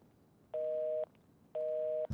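A phone rings inside a car with two evenly spaced electronic tone bursts, each about half a second long, steady and fairly loud against a quiet background.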